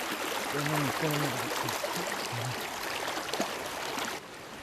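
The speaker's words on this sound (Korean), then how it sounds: "다음은 시원한 물소리를 녹음하기 위해 냇가로 향한 두 사람" A creek gurgles and rushes in a constant broadband wash, recorded as ambience for film sound, with a few faint voices briefly heard over the flowing water.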